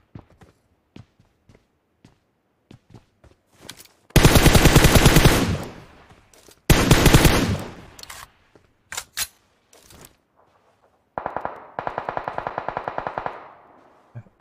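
Sniper and rifle fire in PUBG Mobile: a string of sharp isolated shots, then long loud bursts of rapid fire, then a final quieter rattling volley, all close and without talk.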